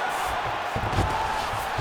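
Crowd noise from the EA Sports UFC 5 bout between Israel Adesanya and Roberto Satoshi Souza, a broad steady roar that swells slightly midway as the arena audience pops after a grappling exchange.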